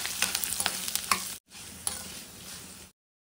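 Garlic cloves, dried red chili pieces, curry leaves and a pinch of asafoetida crackle and sizzle in hot tempering oil for gongura dal, with a loud, dense frying hiss that is briefly stirred, cuts out, then resumes before falling silent.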